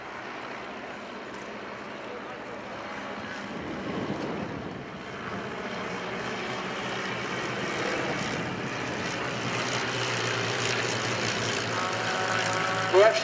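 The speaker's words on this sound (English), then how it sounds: "this distinctive swept look that you can see as they fly over us now from left to right" de Havilland DH 82 Tiger Moth biplanes of a display team flying over an airshow at Shoreham, a steady propeller engine drone that grows slowly louder as they pass, heard under a commentator's talk.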